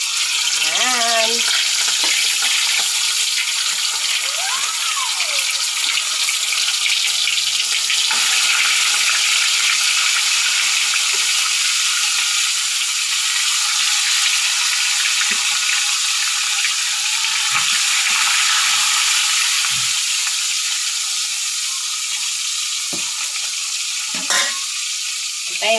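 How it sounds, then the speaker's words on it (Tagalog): Fish frying in hot cooking oil, a steady loud sizzle filling the whole stretch with brief clinks and faint handling sounds, no talking over it. "Dahil mainit na mantika, isa lang ang isda."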